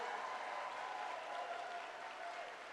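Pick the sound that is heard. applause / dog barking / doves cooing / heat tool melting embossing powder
applause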